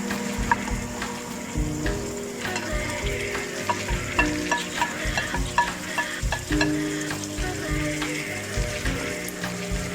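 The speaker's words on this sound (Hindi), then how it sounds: "ये देखिए मसाला भुन चुका है, तो अब इसमें हम ये बैगन ऐड कर देते हैं।" Eggplant goes into sizzling masala in a pan and is stirred hard, a loud, close frying hiss with frequent clattering, scraping strokes of the spoon throughout.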